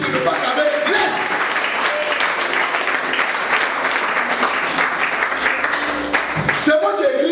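A church congregation bursting into steady, loud applause, many hands clapping together in a dense sustained roar that tapers slightly near the end, with a voice talking over it.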